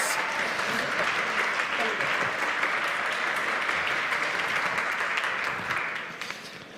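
Sustained audience applause at a Valencia Digital Summit 2022 stage event as the Siemens Mobility sales director is welcomed, steady dense clapping throughout that thins slightly at the very end.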